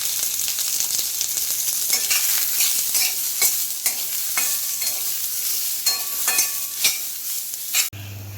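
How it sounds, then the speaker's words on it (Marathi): Onion frying in hot oil for a fresh green chickpea curry, a loud continuous sizzle with repeated stirring scrapes and clinks close by and no talk, cutting off abruptly at the end. "तेल टाकलं की पडदिशीने कांदा चांगला भाजून होतो"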